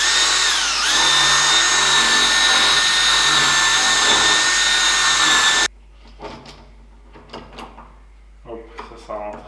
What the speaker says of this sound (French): Et je visse vraiment légèrement.